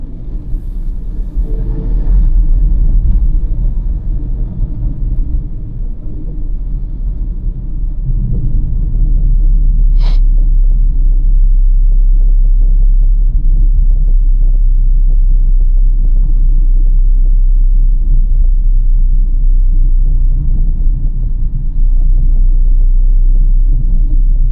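A car cruising in fourth gear at about 40, heard from inside as a steady, loud, deep engine and road rumble that holds evenly throughout with no talk.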